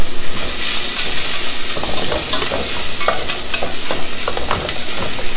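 Onions caramelizing in a frying pan for a beef mince dish, a steady broadband sizzle with crackling pops and occasional stirring clinks, close and continuous with no talking.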